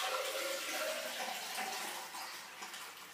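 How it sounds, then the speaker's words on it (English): Golden milk pours into a container in a steady liquid stream, a continuous close splashing and gurgling that fades slightly toward the end. "I put it aside and I pour the milk into the container"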